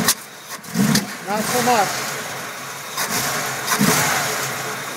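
Engine of a 1965 Chevy truck that sat for 11 years and has a carburetor needing adjustment, running close by with rough idling and brief revs, while someone talks over it.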